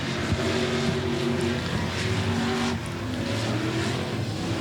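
Race cars at Golden Triangle Raceway roar out of turn 4 side by side, a loud dense engine drone with shifting pitches and rising revs, close and continuous.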